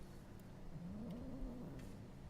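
A house cat lets out one drawn-out, wavering meow, fairly quiet and close, over low background noise.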